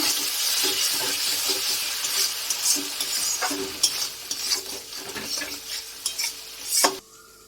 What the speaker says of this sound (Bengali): এবার আমি একটু ভালো করে এটা কষিয়ে নেব।